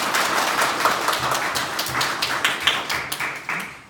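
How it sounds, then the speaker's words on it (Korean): A church congregation applauding after a hymn, a dense burst of many hands clapping indoors that gradually thins and fades. "축복과 또 감사의 박수 한번 하도록 하겠습니다"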